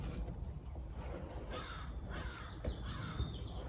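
A crow caws outdoors several times, fairly faint and somewhat distant, the calls rising over low background noise with no talk.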